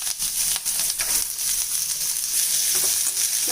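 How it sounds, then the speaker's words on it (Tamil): Snake gourd stir-fried in hot oil with urad dal and chili, giving a loud, steady sizzle with scraping stir sounds throughout, no voices. "இப்போ இதே நம்ம புடலங்காய் சேர்த்துடலாம்."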